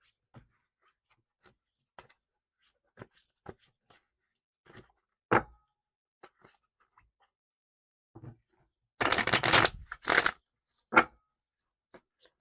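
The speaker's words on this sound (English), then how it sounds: "Let's get a good shuffle." Tarot cards are shuffled by hand in scattered soft riffles and taps, ending in a longer burst of rapid riffling near the end of a quiet stretch.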